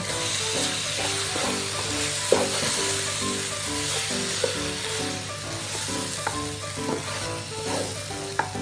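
Gari piñon being stirred in a pot over steady sizzling heat, with regular scraping strokes and occasional clinks riding on a continuous close frying hiss, no voices.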